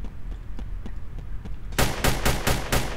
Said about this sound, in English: Let's see if I can shoot him from this bar.